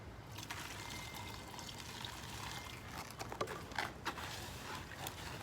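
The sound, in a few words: water being poured into concrete mix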